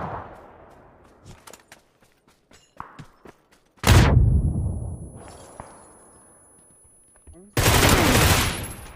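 Video game gunfire: bursts of rapid shots and a few sharp single cracks, loud and close, separated by quieter gaps.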